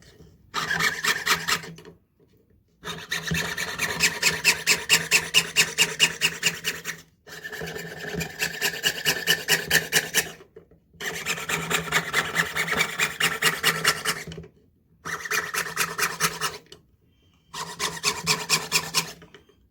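Metal is cut by hand with a saw in repeated bursts of rapid, raspy back-and-forth strokes, each lasting a few seconds and separated by short pauses, close and clear.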